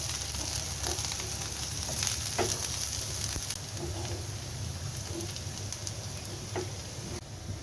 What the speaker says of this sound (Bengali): লাল এটাকে আমি লাল করে নেব লাল করে ভেজে নেবো